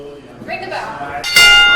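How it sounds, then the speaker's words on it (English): A wrestling ring bell rings to start a match at a live event, bright clangs arriving sharply near the end over crowd and arena noise. "Ring the bell."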